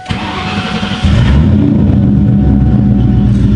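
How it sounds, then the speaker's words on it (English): Ford Mustang GT engine cranking briefly then catching and firing up into a loud, steady rumbling idle, close and clear. "We shut it off for a little bit, see if she starts like a normal car"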